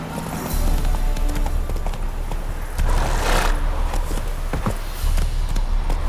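Horse hooves clip-clopping at a steady run in The Witcher 3: Wild Hunt, a continuous rhythmic patter of close, fairly loud hoofbeats over ambient game noise, with a brief voice near the start.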